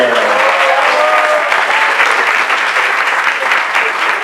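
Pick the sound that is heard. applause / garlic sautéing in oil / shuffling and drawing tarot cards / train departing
applause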